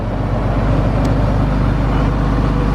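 A 2019 RAM 3500 Limited with a Cummins diesel engine idles steadily and fairly loudly throughout, a smooth continuous low rumble without obvious knocking.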